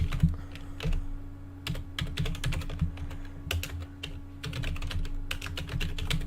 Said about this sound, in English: If I just type www.atc.rs, then /, and I will just type